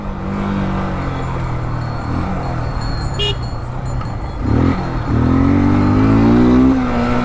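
A Yamaha FZS V1 carburettor motorcycle runs under a rider, its engine droning steadily then climbing in a loud rising rev toward the end, heard up close.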